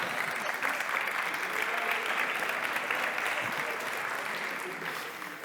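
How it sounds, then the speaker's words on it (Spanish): Warm, sustained applause from a live audience at a Tenerife talk honours a colleague, a dense even roar of many hands that holds steady and tapers slightly at the very end. "aplauso, por favor, para el compañero"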